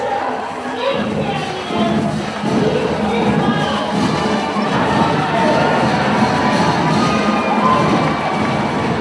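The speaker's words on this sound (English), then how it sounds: "Off your feet, cheering loud." Large crowd at a high school football season event cheering and shouting loudly and continuously, with children's high-pitched yells and scattered thumps throughout.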